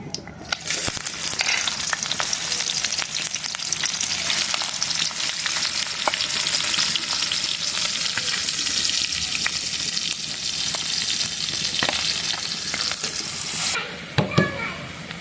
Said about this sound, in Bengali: কড়াইয়ে তেল দিয়ে দিলাম এখন আমি দিয়ে দিব পেঁয়াজ কুচি আর মরিচ কুচি